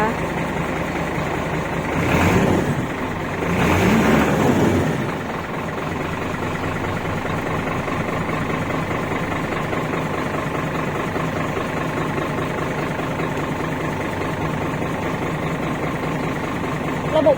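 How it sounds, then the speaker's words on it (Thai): Car engine idling steadily for a long stretch at a Thai car dealership after a rainy-day handover, with a couple of brief revs early on and a constant low rumble throughout. "เสียงเครื่องยนต์นะคะ"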